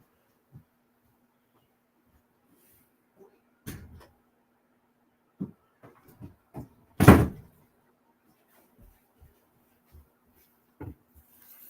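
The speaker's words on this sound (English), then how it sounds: "Let me close this door." An indoor door pushed shut during a phone-style conversation, giving one loud solid thud among scattered faint knocks and rustles, with no talk over it.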